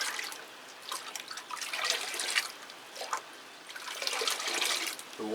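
Liquid seaweed fertilizer being stirred into warm water for feeding Cattleya orchids: soft, irregular sloshing and trickling with small drips, fairly close and fluctuating in bursts, with no talking.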